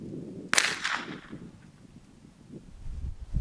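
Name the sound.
rifle shot fired at target with Zerotech Thrive HD riflescope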